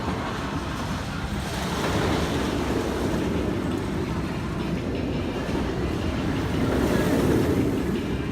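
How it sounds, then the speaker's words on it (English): Congo River Rapids, a family water ride at Alton Towers: a steady roar of rushing water and ride machinery, loud and continuous without a break. "So this is a good family ride, the Congo River Rapids"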